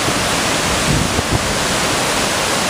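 Strong wind gusts roar across the microphone at a dam, a loud, broad, steady rush with a couple of brief bumps and no voices.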